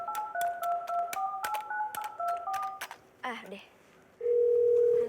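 A rapid series of touch-tone beeps as a number is keyed, a brief voice, then a steady tone that sounds for about a second.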